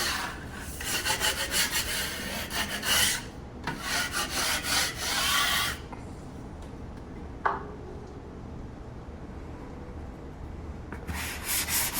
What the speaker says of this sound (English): We're using our sanding block here, and what we want to emphasize in this step is breaking the edges.